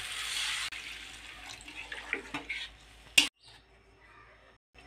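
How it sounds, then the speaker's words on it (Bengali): Water is poured into a pan of sautéed tomato curry for a fish dish, a brief hissing rush followed by a few soft utensil clinks and then near silence, close and fairly quiet. "এখন আমি জল দিয়ে দেব।"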